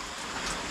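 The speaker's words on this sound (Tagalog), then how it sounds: "patuloy pa rin yung pag-ulan. Pero hindi siya malakas." Light rain falling outdoors in a rural Philippine province at night, a soft, steady hiss of drops with no talk over the brief moment.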